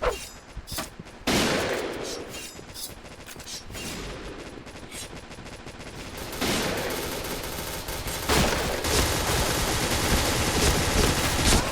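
Gunfire in the shooter game Point Blank: dense, loud bursts of rapid automatic shots and single cracks in continuous fusillade, with little pause throughout.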